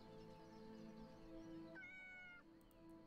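A cat in the video game Yes Your Grace gives one drawn-out meow with a rising, wavering pitch that ends abruptly, heard clearly over a soft game music backdrop.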